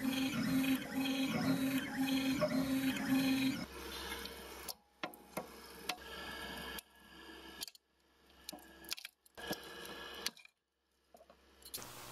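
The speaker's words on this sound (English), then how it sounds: "So I'll print these 4 prints out and I'll let you know what I think." A 3D printer runs test parts in colorFabb NGEN filament, its stepper motors buzzing in a steady rhythmic pattern at first, then giving way to quieter, intermittent whirs and clicks separated by brief pauses.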